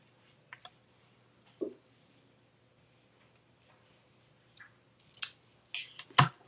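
Scissors snipping the ends off paper for a handmade thank-you card, with a few faint, sparse cuts and a louder closer snip near the end in a quiet room.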